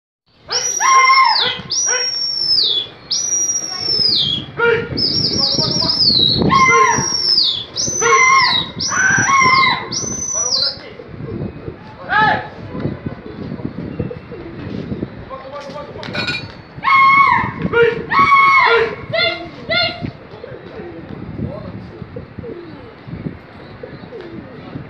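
Pigeons settled on the ground while grain is hurriedly gathered, giving repeated loud whistling calls in bursts for the first ten seconds, then sparser calls, over steady background bustle and scattered voices.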